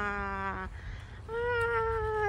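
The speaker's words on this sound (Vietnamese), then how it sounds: "Mèo của ai không biết mà đi kiếm mình rồi." A cat meows twice at a camping site, each call clear and close, with a rising second meow that is stronger and longer and sounds needy and insistent.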